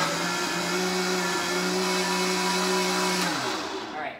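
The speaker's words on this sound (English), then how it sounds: "And Vitamixes are very, very loud machines, but they work awesome." A Vitamix blender runs steadily on vegetable broth, a loud, even motor whine with churning liquid that holds for about three seconds and then winds down.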